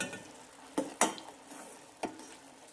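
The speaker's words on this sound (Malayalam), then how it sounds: "ലോ ഫ്ലെയിമിലിട്ട് രണ്ട് മൂന്ന് മിനിറ്റ് കൂടി തിളപ്പിക്കാം" A sweet mung bean and rice mixture simmers on a low flame with a soft steady bubbling hiss, broken by a few sharp clanks of a spoon against the pot.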